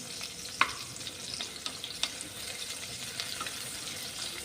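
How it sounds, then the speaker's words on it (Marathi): Onion fries over a low flame in a pan, with a soft steady sizzle and occasional light stirring clicks, close by and without talk. "आता तांबूस रंगाचा होईपर्यंत हा कांदा आपल्याला भाजून घ्यायचा आहे"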